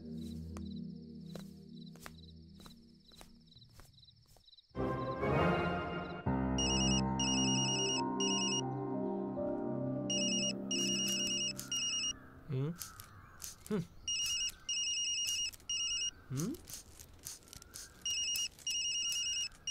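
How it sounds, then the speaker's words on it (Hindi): A telephone ringtone chirps in repeated short electronic bursts, loud and close, with music and voices underneath. "फोन बज रहा है, सुनाई नहीं देता?"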